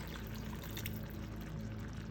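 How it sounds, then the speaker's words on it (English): Water is poured into a cooking pot holding couscous, a faint steady splashing stream under a low background rumble. "I'm going to add some water."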